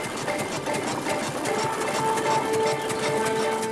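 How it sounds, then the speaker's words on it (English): A vintage tractor engine pulling a reaper binder through a field, a steady loud mechanical chugging and rattling with a faint whine, continuous throughout. "The tractor's pulling a reaper binder, one of the most important agricultural machines of the age."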